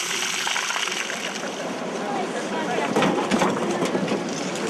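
Water rushing from the end of a pipe fed by a reservoir once a valve is opened in Peru, a continuous loud splashing gush that holds steady throughout.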